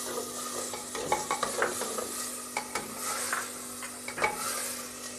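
Spiced masala mixed with a cup of yogurt roasts in a pan for Sindhi biryani: a steady sizzle with repeated scraping stirs and soft clinks, fairly close, with no talking.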